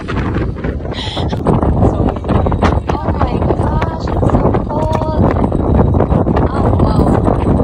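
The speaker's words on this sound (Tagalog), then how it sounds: "Oh my gosh, it's so windy here." Strong wind buffets the microphone at the very front of a Disney cruise ship's deck. The gusty roar is loud and continuous and swells and dips, with faint voices mixed underneath.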